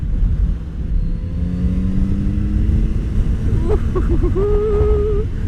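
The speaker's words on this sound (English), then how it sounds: "But the engine sound, it sounds quite throaty." A 2019 Kawasaki Z900RS Cafe four-cylinder motorcycle engine idles and revs with a deep, throaty rumble, steady and close, rising briefly in pitch near the end.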